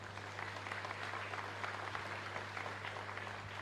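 A congregation at Mass in the San Blas parish church in Loma Pyta, Asunción, applauds; soft, distant clapping spreads through the room over a low steady hum.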